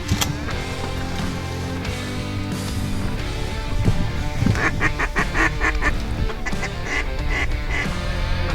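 Ducks and geese call loudly and close, honking and quacking in rapid overlapping bursts that grow busier through the second half, with no voices.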